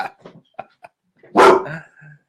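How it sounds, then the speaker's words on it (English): A dog barks loudly and close by outdoors in the mountains, one short burst of sharp barks followed by a lower whine, after a few soft scattered sounds. "now my dog's going to join us, of course, right?"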